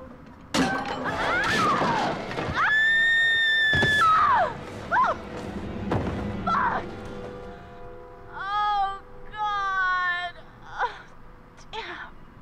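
Shrill creature screeches in the horror video game Until Dawn, several rising and falling cries at different moments mixed with thuds, crashes and panicked voices.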